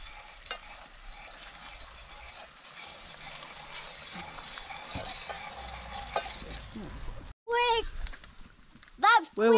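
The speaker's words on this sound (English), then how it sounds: "mix it. Stir it up." Spoon stirring a sweet sauce in a hot pan, a steady scraping, sizzling texture that runs for several seconds before breaking into brief louder bursts near the end, with voices talking over it.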